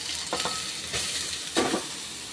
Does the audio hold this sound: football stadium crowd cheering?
no